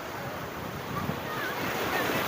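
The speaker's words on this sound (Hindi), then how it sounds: "ये देखिए समुंदर का लहर कितना तेज़ हो चुका है।" Strong sea waves surge near the Haji Ali Dargah, heard as a continuous loud rushing roar of surf mixed with wind noise, with no talking.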